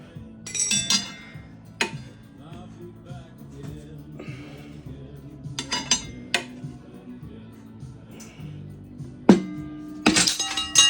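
A steel tire spoon levering a motorcycle tire onto a chrome wheel by hand, giving sharp scattered metallic clinks and scrapes at irregular intervals, some louder bursts, close up with no talk.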